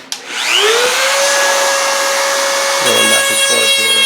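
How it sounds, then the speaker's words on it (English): Dremel rotary tool fitted with a tile-cutting bit spins up to a steady high-pitched whine and holds it, working back and forth on a caster-wheel bracket in a rental remodel; the load shifts near the end. "And I'll do that with my Dremel tile bit."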